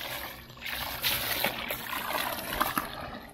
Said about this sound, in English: Then I get the hose. Rinse all this junk out of the way.